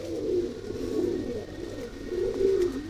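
Pigeons coo steadily in a continuous low warbling chorus, several birds overlapping at close range with rhythmic swells, and no voices over them.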